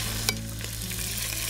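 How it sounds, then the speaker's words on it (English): Chicken browns in hot avocado oil with a steady, close sizzle and frying crackle, one sharp pop early on, and no talking. "Nice sizzle, that's what we're looking for."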